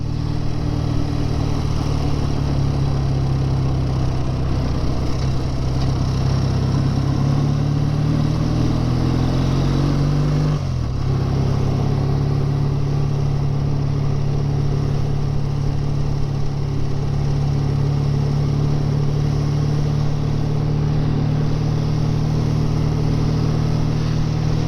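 Classic BSA A10 650 motorcycle engine running steadily while riding, a constant droning hum with a brief dip in pitch midway as the bike shifts or slows, continuous and close.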